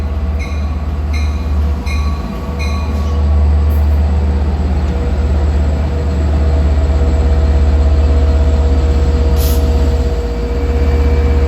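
A Long Island Rail Road train from Oyster Bay to Penn Station, engine 521, rumbles past at Mineola during the morning rush with a steady loud low drone and wheel noise, plus a few faint ringing clanks early on.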